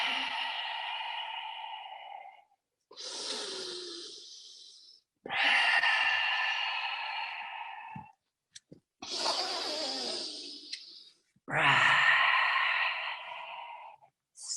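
Slow, deep yoga breaths during a vinyasa flow, five long airy inhales and exhales close to the mic, each lasting a couple of seconds and separated by short pauses, with no talking.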